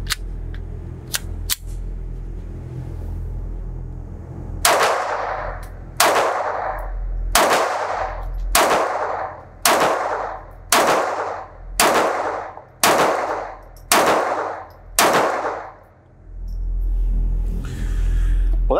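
Browning Black Label 1911 .22LR pistol firing Blazer ammunition at a range: a few scattered early shots, then about ten sharp, evenly spaced reports, loud and close, each with a short ringing tail.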